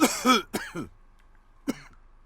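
A character in the Call of Cthulhu video game coughs in three sharp, close bursts: two quick rough coughs, then a single fainter one after a pause, against near silence.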